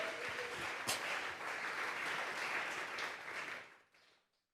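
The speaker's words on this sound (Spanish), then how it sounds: "Vamos a regalarle ofrenda de palmas al Dios de la gloria." Church congregation at a Spanish-language Thursday Bible doctrine service gives a sustained round of clapping, dense and steady for about three and a half seconds before tapering off into near silence.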